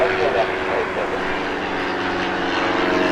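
A steady aircraft engine drone at Southend Airport, with propeller-like hum from a distant plane, continuous and moderately loud with no breaks.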